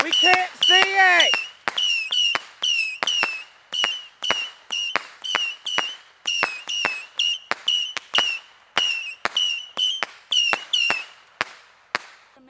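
Fireworks set off outdoors by a house porch, a rapid run of whistling launches followed by many sharp crackling bursts in quick rhythmic succession, loud and close.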